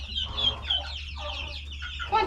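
Young turkeys on a farm give a run of soft clucking and peeping calls, several overlapping chirps repeating close by over a steady low background hum.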